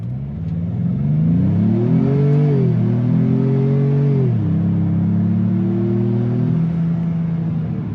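A Ford Maverick Lobo pickup truck's engine accelerates hard in sport mode, its tone climbing through gear shifts then settling into a steady, loud drone; no one speaks.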